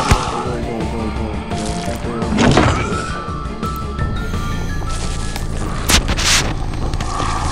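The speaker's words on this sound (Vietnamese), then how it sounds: "Đó là một khẩu súng đến từ Coordinator." Gunfire from a weapon in the asymmetric horror video game Identity V, a sharp loud burst amid dense game effects, impacts and background music, with a second bright crack later on.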